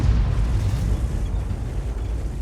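A tank gun firing a shell in a video game, the SU-14-1 artillery piece: one heavy, rumbling low boom that fills the whole stretch, loud and sustained with no talk.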